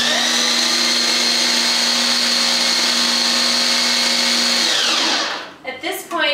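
A blender whirs loudly and steadily for about five seconds while mixing a vegan eggplant manicotti filling, then winds down to a stop, followed by a few short knocks and rattles.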